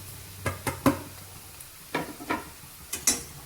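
Onion frying in oil in a pan as spices are tipped in and stirred, giving a handful of short scraping, clattering strokes over a quiet sizzle, close and fairly soft.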